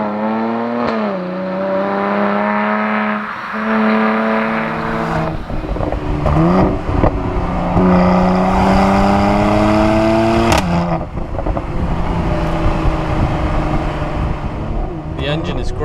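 A Mercedes-AMG C43 4Matic Coupé engine revs up through rising gear pulls, its pitch climbing and dropping between shifts, loud and close, with a voice talking over it.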